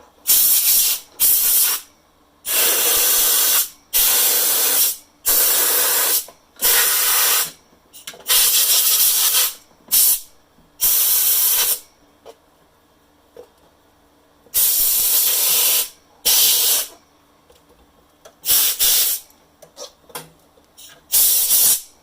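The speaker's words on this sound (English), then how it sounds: "Blew them off the radio, or off the speaker chassis onto the cord." Repeated sharp bursts of compressed air, about a dozen blasts of uneven length separated by short pauses, blowing cobwebs off the speaker chassis of a 1929 Atwater Kent 55C radio, loud and close.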